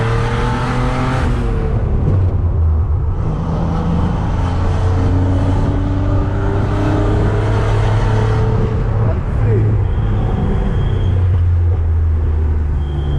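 A Chevrolet Omega 3.0 Diamond six-cylinder engine revs hard above 4000 rpm, a loud continuous climbing drone heard from inside the car as it accelerates through the gears.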